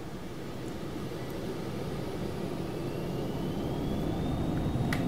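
Twin jet engines of a Phenom 300 business jet in X-Plane 11 spool up to takeoff thrust on the runway, a steady broadband roar with a rising whine that grows slightly louder throughout.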